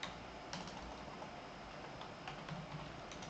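Keys clack steadily on a computer keyboard as an SQL query is entered, a quick run of light, close taps with no talking.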